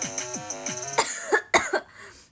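A voice-like harmonic tone followed by several harsh, close coughs in quick succession, loud bursts separated by short gaps.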